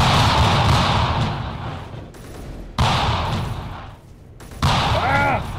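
Ship guns firing in the Space Engineers video game, with loud bursts of rapid fire broken by short pauses and a shout under the gunfire.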